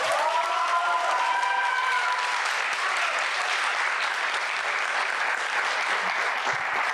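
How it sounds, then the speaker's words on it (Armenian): A seated audience at a debate on Armenia's new constitution applauds steadily throughout, a dense, even wash of clapping that holds at a constant level from start to finish. "Այս ծափարությունները բավարար չէր"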